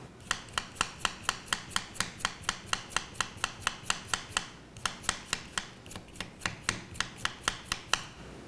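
Tip of a vegetable peeler gouging an eye or bad spot out of a vegetable: a fast, steady series of sharp little scraping clicks, close and fairly quiet, with a brief pause midway and no talk.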